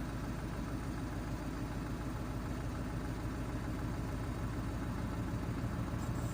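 A truck engine under load while pulling away uphill, a steady, heavy drone that rumbles without a break, close and constant throughout, with no voices.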